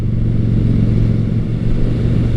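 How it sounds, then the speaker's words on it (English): A Honda Shadow Spirit 750 V-twin cruiser with 20,000 miles on it revs out while riding, a loud, steady, throbbing low engine drone heard up close without any talking. "It has that nice V-twin sound to it, and even when you're revving it out, it's not ultra vibey."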